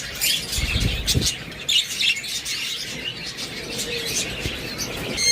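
Caged pet birds such as lovebirds, cockatiels and budgerigars chirp and twitter in a busy flock, bright overlapping calls filling the space with a few low thumps and rustles underneath.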